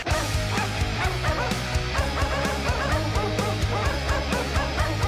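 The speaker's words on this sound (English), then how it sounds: "It's the entire album with all the vocals replaced with synthesized" Synthesized dog barks stand in for the vocals over a pirate folk metal song, with loud, steady barking repeated in rhythm above driving drums and guitars.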